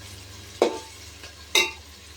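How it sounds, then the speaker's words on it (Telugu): Onions frying in a pan until golden brown for chicken biryani, a quiet low sizzle underneath two distinct sharp stir or scrape knocks spaced about a second apart, close by with no talking. "ఇలా గోల్డెన్ బ్రౌన్ కలర్ వచ్చే వరకు ఫ్రై చేసుకోవాలి మనం"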